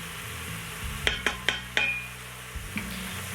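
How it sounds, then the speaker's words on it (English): Vegetables and red pepper flakes stirred in a hot pot for a spicy Thai chicken soup, a few close scraping clinks against the pot over a faint steady sizzle, no talking. "Give it a little bit of a stir so I can reposition the vegetables here."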